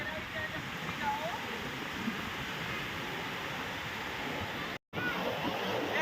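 Sea waves wash onto the sand at Adri beach in a steady, broad rush of surf, continuous and fairly faint, with a brief dropout near the end.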